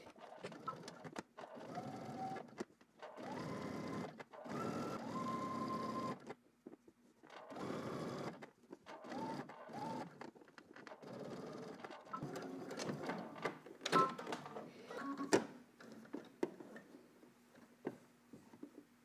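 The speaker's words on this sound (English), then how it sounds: "we're basically just going to stitch on the right side of the seam, but close to the seam, which is called understitching" Sewing machine running in several bursts to understitch close to a seam on a Know Me ME2035 garment, with short pauses between stitching runs at a moderate, steady level.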